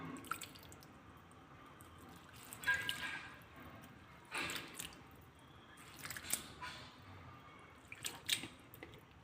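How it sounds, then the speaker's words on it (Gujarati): Mixed dal is rubbed and washed by hand in a bowl of water, with soft wet squishing, sloshing and drips coming in irregular bursts, faint and close. "આ રીતે આપણે ઘસીને ધોવાનું છે"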